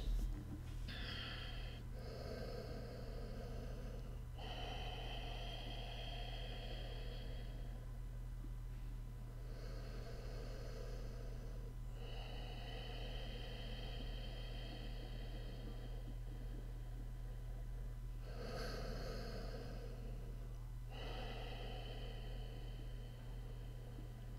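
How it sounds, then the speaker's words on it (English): Slow, deep breaths during a relaxation exercise, several long airy inhales and exhales drawn close to the microphone over a steady low hum, each breath lasting a few seconds with short pauses between. "3 breaths in and 3 breaths out"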